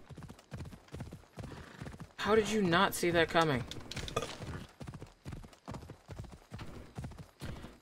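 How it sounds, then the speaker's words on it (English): Hooves clip-clopping from a bright white horned horse in the video game Assassin's Creed Odyssey, a brisk regular rhythm of hoofbeats with a neigh partway through and a person talking over it. "It's a bright-ass white horse with a horn on its head."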